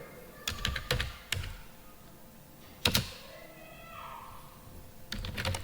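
Code being typed on a computer keyboard: short bursts of crisp key clicks separated by pauses, close up and fairly quiet, with no one talking.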